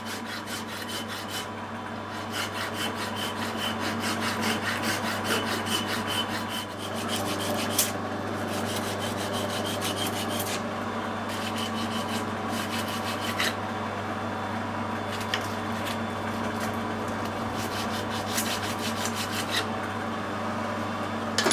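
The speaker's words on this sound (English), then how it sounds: "I want a flat file on it." Steady rasping strokes of a flat file working a metal part for a Fowler traction engine oiler, a continuous close scraping rhythm over a workshop hum, with no talk.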